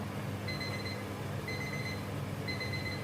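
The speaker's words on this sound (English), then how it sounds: "the counter has ring and the potatoes are ready." A Silvercrest Cool Zone SKF 2800 B3 deep fat fryer's timer beeps in short high bursts, about once per second, over a steady background hum, signalling fried potatoes are ready.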